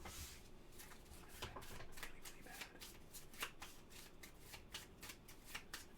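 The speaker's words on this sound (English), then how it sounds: "Give a quick shuffle here" A deck of playing cards is riffled in quick repeated bursts during a solo board game turn. The crisp flutters sound close by and fairly soft.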